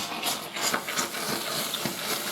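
A steady, breathy hiss of steam runs throughout, with soft pulsing bursts and faint background noise.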